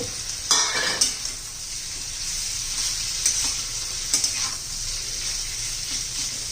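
Ground spice paste of coriander, cumin, lentils, onion, garlic and tamarind sautés over a high gas flame for a dry bitter gourd dish, sizzling steadily up close with sharp spatula scrapes and clinks against the pan.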